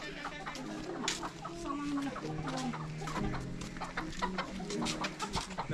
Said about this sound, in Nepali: भाले समात्ने कार्यक्रम हुँदैछ